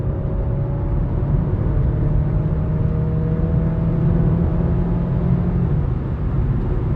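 Cabin-side drone of a 2023 Mercedes-Benz A-Class premium hatchback pulling hard in sport mode after a gearbox kick-down: a steady, loud engine hum with road rumble that holds through the whole stretch, with no one talking.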